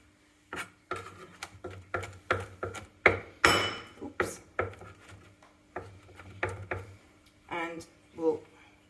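A knife roughly chopping pitted olives on a board for tuna pasta, a run of close, crisp taps in an uneven rhythm with a few louder knocks.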